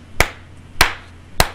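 Three sharp hand claps spaced evenly about half a second apart, loud and close, with quiet room tone between them and no talking.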